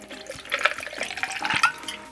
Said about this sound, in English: It's a good strong pour is what they call for.